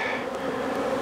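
Honey bees buzz steadily across a brood frame pulled from a hive for a varroa mite check, a dense, close, continuous drone with no voices over it.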